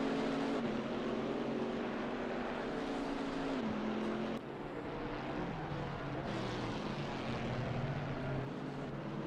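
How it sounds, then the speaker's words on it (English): A Chevrolet Camaro engine in a racing video game drones steadily from the on-board view at the Hungaroring, a sustained buzzing roar with pitch dips and rises as gears change and the car brakes and accelerates. "Nice and loud inside the Camaro, that's for sure."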